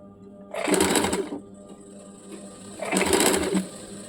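Two close, loud bursts of sewing machine stitching run around small pleats on fabric for a baby umbrella frock, each lasting under a second with a quieter pause between them and no talking.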